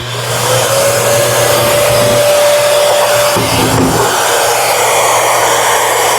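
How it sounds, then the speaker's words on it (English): A workshop dust collector runs as a loud, continuous roaring whoosh with a steady hum, close and dominant throughout, a brief tonal shift midway. "Let's fire our dust collector back up."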